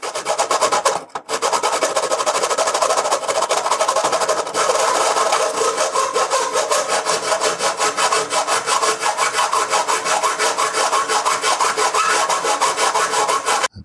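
Hand flattening and squaring of a small wooden part, a continuous rough rasping scrape that runs loud and steady with a brief pause near the start, no voices.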